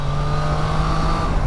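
A Triumph Tiger Sport 660's parallel-twin engine drones loud and close, a steady smooth hum under way with constant wind roar and no clear rev changes.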